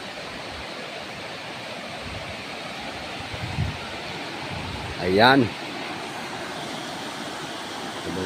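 Water flows over a dam at Pi-it, Laguna, as a steady broadband rush at constant volume, briefly broken by a short spoken word and a quick sharp sound near the end.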